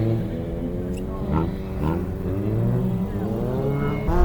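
A rallycross car at a folk-race and cross-sprint championship round at Aluvere runs on a gravel track. Its engine roars and shifts pitch with rising and falling revs, loud and fairly close, with faint voices in the background.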